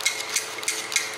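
A stretched timing chain slaps against its guide inside a BMW 5GT F07 engine, giving a close, sharp metallic tick that repeats four times at an even, quick pace.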